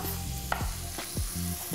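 Pieces of veal for a blanquette de veau go into a hot pan and fry with a close sizzle, while a few quick scrapes and knocks sound as the meat is moved. No voices.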